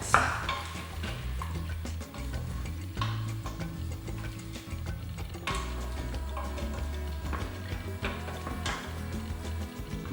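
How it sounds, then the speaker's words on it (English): A spoon stirring tomato sauce and corn in a pot, with soft irregular scrapes and light clinks continuing steadily at low volume and no talking. "then just stir that up for a minute"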